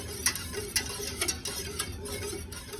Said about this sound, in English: it says to stir consistently for 2 to 3 minutes until thickened